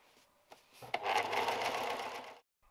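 A sewing machine stitches a folded skirt hem in one close burst of rapid, steady whirring lasting under two seconds, starting and stopping cleanly after a few faint clicks.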